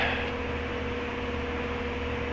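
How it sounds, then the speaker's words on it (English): A steady, low mechanical hum with faint broadband whoosh runs throughout, an exhaust fan with filters droning continuously down a hallway in the background, with no other sounds. "and then I have my exhaust fan with filters"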